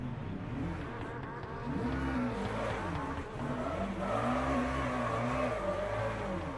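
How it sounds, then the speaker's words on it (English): Racing video game car engine in a Slovenian championship race stuttering as it runs out of fuel, a steady, uneven motor drone with wavering pitch that persists throughout, no voices. "Ah, the engine was stuttering."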